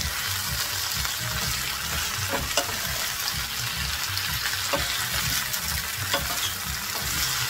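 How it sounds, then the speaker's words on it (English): A pound of baby spinach sautés with a chopped onion in a pan, giving off a steady, close sizzle with occasional stirring clicks and no talk. "We're going to saute it until it's nice and softened"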